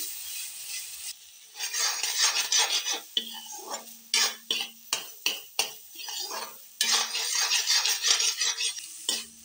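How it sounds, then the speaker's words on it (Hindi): Paneer being stirred with a milk powder mix in a pan while making a sweet, with rhythmic metal spatula scrapes and clatters over a soft sizzle, close and alone. "अब इसमें हम ये जो मिल्क पाउडर वाला मिक्स है उसको मिला लेंगे और इसको भी हम अच्छे से चलाते हुए"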